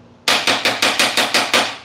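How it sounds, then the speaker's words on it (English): A Dodge Challenger R/T with a 5.7 HEMI V8 knocking badly, a loud, evenly spaced series of seven sharp metallic hammering blows at a steady rhythm, close and alone. "So this car was hammering. I mean, it was absolutely knocking"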